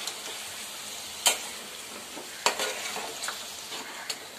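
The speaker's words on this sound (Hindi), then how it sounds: "अच्छे से इसको मिक्स कर लेंगे और थोड़ी देर भूनेंगे" Chicken with tomato puree stirred and fried in a pot, a constant bright sizzle with sharp scrapes of a spoon against the metal every second or so.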